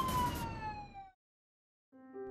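A siren wails in an animated cartoon, a loud rising and falling emergency tone that cuts off after about a second, followed by silence and then a brief electronic tonal sound.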